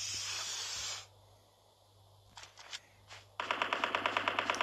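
Automatic gunfire in Call of Duty Mobile, a battle royale match: a hissing burst, a few scattered shots, then a loud rapid run of evenly spaced rounds close by.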